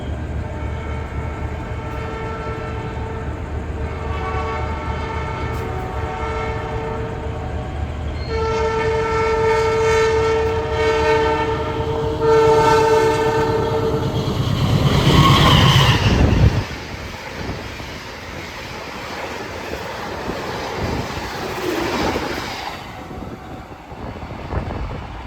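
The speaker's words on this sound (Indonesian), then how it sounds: "Barusan berjalan langsung kereta api Mutiara Selatan dari Surabaya Gubeng ke arah Bandung" Mutiara Selatan passenger train from Surabaya Gubeng toward Bandung rushing past at high speed, a loud continuous roar of wheels on rail with a sustained horn blast rising over it, then fading rumble.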